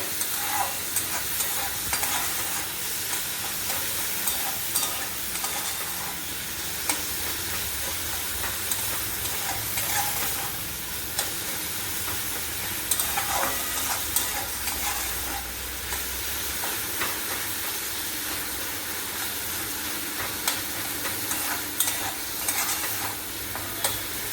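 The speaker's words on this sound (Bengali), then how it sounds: "টমেটোটা গলে যাওয়া পর্যন্ত আমি ভাজবো।" Tomatoes with salt and turmeric fry in a pan for a vegetarian kakrol curry. A dense, continuous sizzle and hiss carries on for the whole stretch, broken by repeated stirring scrapes, loud and close, with no talking.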